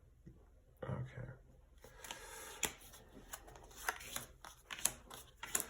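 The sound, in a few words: tarot cards being shuffled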